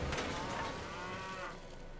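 Cattle in Civilization 5 give a single drawn-out, tonal moo that swells and then fades, heard alone over a soft ambient bed.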